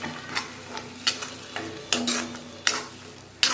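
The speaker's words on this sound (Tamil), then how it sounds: "நல்லா எண்ணெய் பிரிஞ்சு வர்ற அளவுக்கு வதக்குங்க. இந்த பச்சை மணம் போகணும் இந்த தக்காளியிலிருந்து." Ground tomato sautés in oil in a pan, a low sizzle broken by a series of sharp spatula scrapes and taps against the metal, close and loud.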